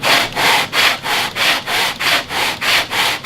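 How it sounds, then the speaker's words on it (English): A disc is turned by hand over wood to grind and bevel it while building a bajo, producing loud, rhythmic rasping strokes, about three per second, with brief pauses between each pass. "we'll put the disc on top and we'll turn it and rotate it, and it'll grind down and bevel all of this."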